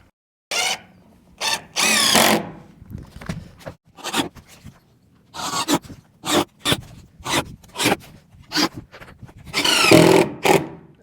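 A power drill drives screws into a plywood top during an ICF build, with a series of short, loud whirring bursts and brief gaps between them, close by.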